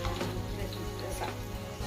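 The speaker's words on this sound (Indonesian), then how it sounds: "kita goreng sampai matang dengan minyak bekas dari minyak kacang tadi ya" Garlic frying in leftover peanut oil for sambal pecel, a steady close sizzle with faint crackles and the odd scrape of stirring.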